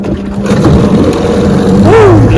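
A Johnson 9.5 HP outboard motor idles steadily on the water, a low continuous engine drone that swells slightly near the end as the throttle is blipped.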